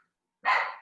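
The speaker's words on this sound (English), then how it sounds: "That's my dog Sage." A single dog bark, one short loud burst arriving after a pause of silence, close to the microphone and fading out slowly.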